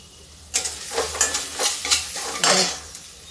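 Asafoetida and cumin crackle in hot oil with onions, a close sizzle broken by several bursts of stirring and scraping in the pan, the loudest near the end.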